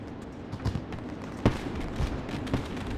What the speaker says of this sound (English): The fireworks here are pretty cool.